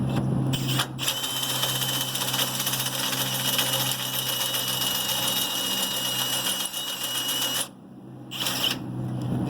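A power drill with high torque bores into a trailer, its motor running in a steady, close whine nearly throughout, with a brief stop near the end before starting again.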